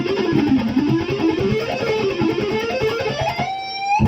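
Electric guitar picks through a scale in a rapid, even run of notes that climbs and falls, close and clear with no talking.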